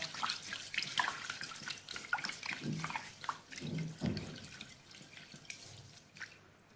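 Rice being rinsed and stirred by hand in water for sushi, soft close sloshing and trickling with scattered drips and a few low splashes, quiet throughout.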